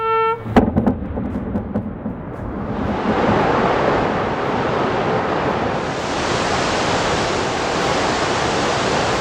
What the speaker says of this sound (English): It's the powerful current of water mixed with soil.